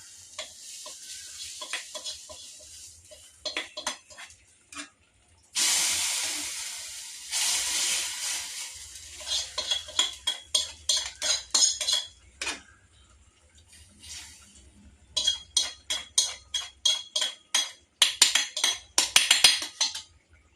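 Prawn curry with tadka stirred in a pot, giving bursts of spoon scraping and clinking in rhythmic clusters, with brief sizzling hiss between quieter pauses, close and clear.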